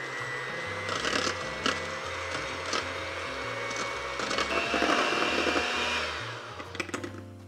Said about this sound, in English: I'm gonna use this hand mixer. And then basically you just start whipping.